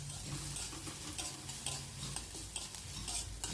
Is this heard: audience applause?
no